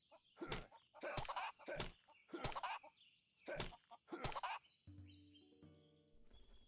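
Several clucks from a chicken in a fantasy video game come in short, separate bursts, followed by a few soft, tonal game sounds.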